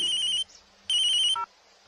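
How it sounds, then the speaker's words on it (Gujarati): An incoming call sets off a phone ringtone, two loud electronic trilling bursts separated by a brief pause and followed by a short lower chime, close and clear with no talking. "એનો જ ફોન લાગે છે."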